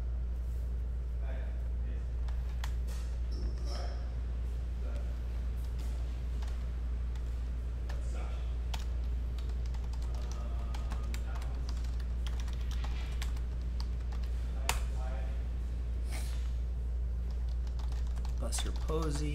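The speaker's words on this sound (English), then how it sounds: "I'm going to type in all of these hits" Typing on a computer keyboard while entering baseball card hits: steady, close clicking of keys runs through the whole stretch over a constant low hum, with scattered quiet voice sounds.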